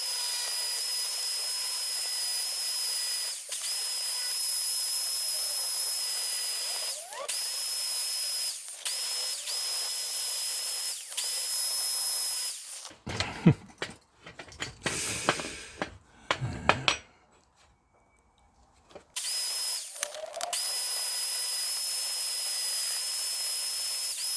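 A bench grinder scours surface rust from old tools with a steady, piercing high whine that drops out briefly midway into rougher grinding and short silences, then resumes at full pitch.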